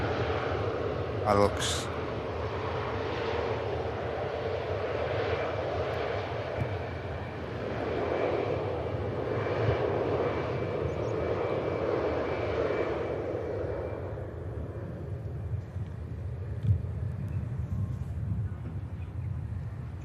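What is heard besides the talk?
TUI airliner taxiing past at Manchester Airport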